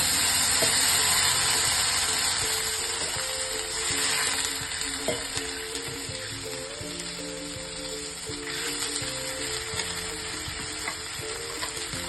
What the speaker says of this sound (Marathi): फोडणी एक चमचा तिखट घालून त्यात पाणी टाकलं